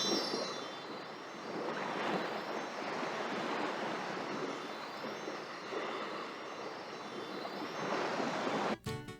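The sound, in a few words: ocean waves at Gelato Beach in Super Mario Sunshine video game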